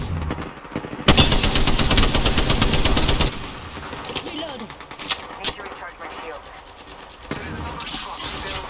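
Sustained automatic gunfire in Apex Legends rattles loudly for a couple of seconds, then scattered shots, footsteps and in-game sounds follow, with voices talking through the action.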